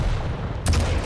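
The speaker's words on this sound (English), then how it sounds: "And his rail shots" A single sharp railgun shot from a fast arena shooter game bursts out once midway through a low, rumbling game background.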